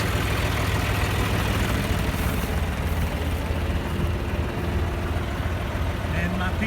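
A John Deere tractor idles with its PTO shaft engaged and turning, giving a steady low rumbling drone with some mechanical rattle. The sound stays continuous and fairly close.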